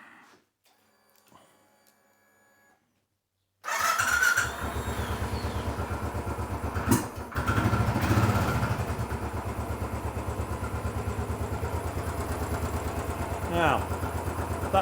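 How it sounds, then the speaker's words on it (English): An old-school Royal Enfield Bullet 500 single-cylinder motorcycle engine starts after a quiet pause, then settles into a loud, steady, rhythmic thumping idle with a brief revving surge, heard close up. "Now, that's that old design, old school engine running."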